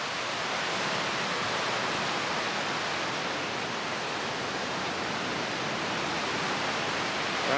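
Waves washing on the Lake Michigan shore, a constant broad rushing surf noise at moderate level with no talk.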